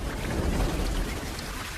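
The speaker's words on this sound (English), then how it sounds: "With the downpour comes upheaval." Dense, roaring monsoon downpour in Ranthambore, India, with a deep rumbling undertone, loud and continuous like a heavy storm.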